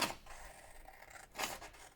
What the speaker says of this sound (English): I used my scissors to cut the straight lines